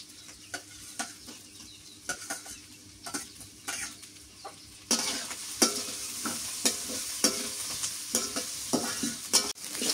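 Dried fish fries in mustard oil with green chili and onion, sizzling as a utensil repeatedly scrapes and stirs the pan; the frying grows louder and busier halfway through, with no talking.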